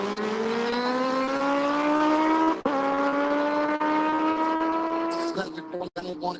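A pair of drag racing motorcycles launches down the strip, their engines a loud, rising high-pitched scream that climbs steadily, breaks briefly with a shift, then climbs again before fading. Crowd and announcer noise sit underneath.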